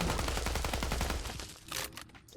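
A Bullpup R91 rifle with no attachments fires a rapid full-auto burst at a Deathclaw in Fallout 4. Loud, close, evenly spaced shots run for about a second and a half, then quieter clanks and impacts follow.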